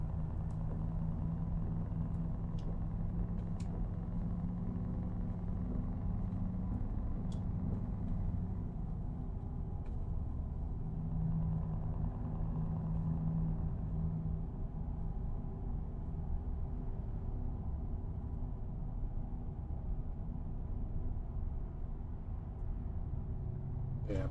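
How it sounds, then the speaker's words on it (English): Deep, steady engine rumble from a 120-ton Cat 3 truck on the road, a constant low drone heard from inside the cab with no break. "my truck is it's a Cat 3, so it's a 120 ton truck"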